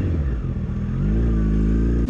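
Yamaha FZ1 motorcycle engine revving up close, a loud throaty burst that rises and then holds a steady high drone, with no talk over it.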